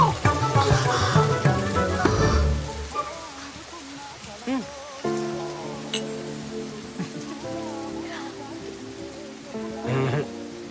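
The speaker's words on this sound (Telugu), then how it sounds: "Oh, it's raining." Rain pours in a Telugu movie scene, a steady hissing patter that is strongest at the start and later sinks beneath swelling music and faint voices.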